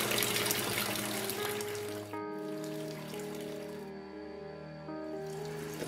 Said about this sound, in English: you can see that we just have a small amount of water coming out